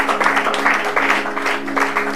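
A church congregation applauds the Lord together, with steady, dense clapping from many hands filling the room and a sustained tone ringing underneath throughout.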